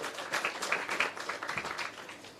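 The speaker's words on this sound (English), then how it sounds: "give her a round of applause" Applause for a speaker at a launch ceremony for a restored bamboo-lined scenic avenue in Jamaica, scattered, fairly faint outdoor clapping with uneven bursts throughout.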